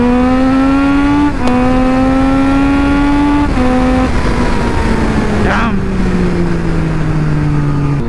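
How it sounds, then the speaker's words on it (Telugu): Triumph Street Triple 675 drag racing a Kawasaki Z900, a loud engine note climbing through gear changes then trailing off as a second machine passes by. "దీన్ని ఒకసారి Z9తో డ్రాగ్ చేద్దాం, Z900తోని"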